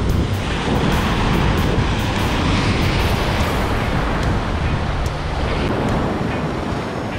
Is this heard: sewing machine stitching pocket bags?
no